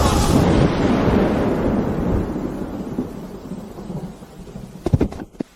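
Thunder called down by a spell in a fantasy drama, a loud rolling crash that fades slowly over a few seconds, followed by a few sharp crackles, with no talking.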